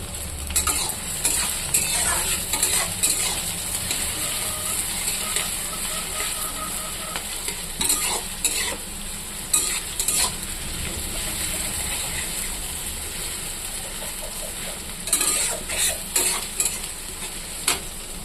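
Onions and potatoes frying in a pan and being stirred, a steady sizzle broken by bursts of metal spatula scraping and clinks against the pan, close and with no speech.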